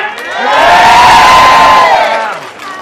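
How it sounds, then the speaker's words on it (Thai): A large crowd at an outdoor political party rally in Uttaradit, Thailand cheers and shouts loudly and steadily, whoops rising over a continuous roar before it begins to fade. "ขอเสียงปรบมือดังๆจากชาวอุตรดิตถ์ครับ"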